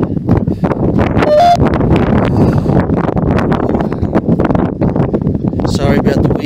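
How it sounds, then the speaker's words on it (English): Strong gusts buffet the microphone at a windy cemetery, a loud, constant rumbling roar that fills the whole stretch with no break. "Sorry about the wind, guys."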